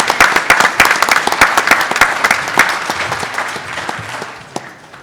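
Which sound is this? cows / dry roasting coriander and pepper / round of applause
round of applause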